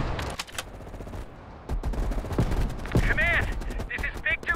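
Sniper rifle shots in Call of Duty: Black Ops Cold War, with a few sharp cracks scattered among a busy battle mix, partly under spoken dialogue.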